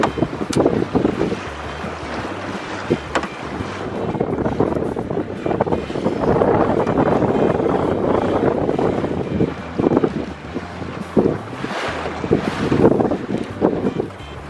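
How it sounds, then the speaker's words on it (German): Wind blowing at sea over the Baltic coast during a fishing trip from a boat, steady rushing gusts buffeting the microphone with faint water movement, continuous and fairly loud with no talk. "Aber wir haben auch ein bisschen Wind heute."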